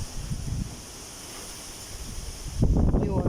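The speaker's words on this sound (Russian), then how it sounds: "Вот что делается, какой ветер." Strong pre-rain wind in a June garden with peonies, hostas and roses, a steady roaring gust noise with microphone buffeting that swells louder near the end, alone without talk.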